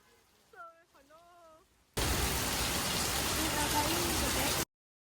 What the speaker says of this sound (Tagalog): it's raining in Vietnam